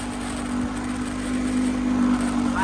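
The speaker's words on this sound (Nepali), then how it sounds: "बाइकको साउन्डै क्लियर भन्छ।" A motorcycle engine on a group ride in Nepal gives a steady, close droning hum that swells slightly toward the end. No one talks.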